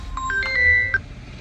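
A mobile phone rings with a short melodic ringtone: a few bright electronic tones in quick succession, close and clear over a quiet background.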